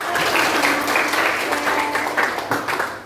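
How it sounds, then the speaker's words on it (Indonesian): A classroom of schoolchildren claps hands together in a dense, sustained burst of applause lasting the whole clip, loud and close, with no talking. "tepuk tangan"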